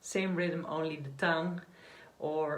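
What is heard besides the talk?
No everyday noises stand out.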